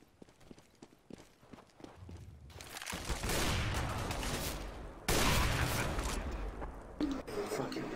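Counter-Strike gunfire: a few scattered single shots, then sustained bursts of rapid automatic fire, fairly loud and continuous through the second half, with brief breaks between volleys.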